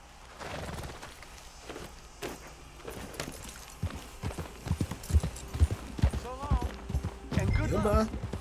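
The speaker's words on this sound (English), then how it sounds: "My horse ran all the way over there." Horse hooves in the video game Red Dead Redemption 2 clip-clop in a steady trotting rhythm, close and fairly clear, with some scuffing and a brief snort near the end.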